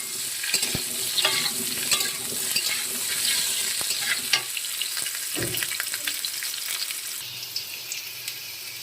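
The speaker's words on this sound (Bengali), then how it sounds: "আলুগুলোকে একটু ভেজে নেব লাল লাল করে" Potatoes sizzling and frying in hot oil, a steady crackling hiss with occasional scraping and stirring sounds throughout.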